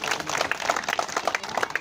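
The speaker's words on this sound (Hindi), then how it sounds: "जोरदार तालियां" Loud applause from a gathered crowd at a cricket league event ceremony in Jalgaon, dense clapping sustained throughout without a break.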